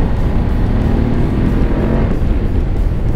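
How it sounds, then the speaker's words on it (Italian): A BMW F850GS 2018 adventure motorcycle engine while riding in a softer-response road mode, a loud, continuous, close-up engine drone with wind rush throughout and no speech. "Il motore ha una risposta più dolce, i cavalli sono sempre quelli, quindi tanti"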